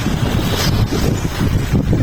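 Loud, continuous wind buffets the microphone on a snowy city night, a rough roaring rumble with no pauses.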